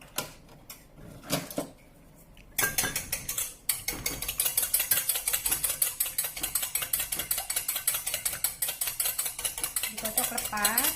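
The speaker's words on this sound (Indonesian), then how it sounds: "Yang pertama adalah telur. Saya kocok dulu." Eggs whisked in a bowl for an omelette wrapper. Quick, steady clinking and scraping strokes repeat rhythmically and close up after a few sparse taps at the start.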